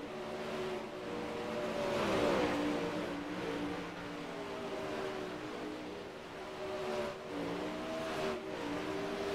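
360 winged sprint cars racing around a dirt track, engines droning and rising and falling in pitch as they pass, heard from a distance at moderate level with no talking.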